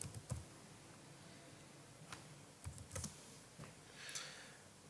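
Typing on a computer keyboard: scattered, sparse key clicks with irregular gaps, faint and close over a quiet background hiss.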